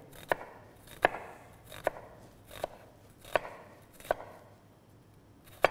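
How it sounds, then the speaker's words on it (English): A kitchen knife slices through an onion on a cutting board for bolognese, producing crisp, evenly spaced chops about once every second, close and clear with no talking. "we're gonna slice 3/4 of the way through the onion"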